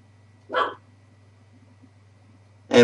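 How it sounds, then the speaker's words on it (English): One dog barks twice indoors, a short bark followed after a pause by another starting at the end, with near silence between them. "Pay no attention to the dog in the background."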